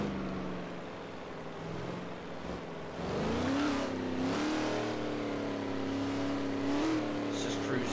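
A car in the racing game Forza Horizon 3 cruises along, its engine humming, then rising in pitch as it accelerates and holds a steady drone, with faint game sounds around it.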